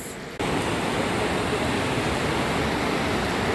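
A river rushes steadily through the Barot valley amid pine forest and farm fields, a loud, broadband roar of flowing water that starts suddenly after a brief quieter moment and holds constant.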